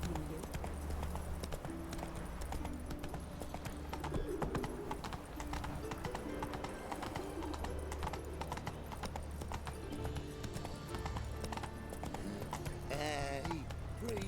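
Horse hooves clip-clop steadily through The Witcher 3 game, running continuously under game music and ambient sound, with brief character voices and a horse whinny near the end.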